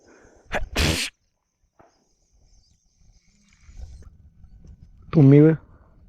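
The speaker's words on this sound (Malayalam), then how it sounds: "തുമ്മിയത്" One sharp, close sneeze bursts out on a quiet outdoor morning trip, followed by near silence with faint background rustle. A short voiced sound follows several seconds later.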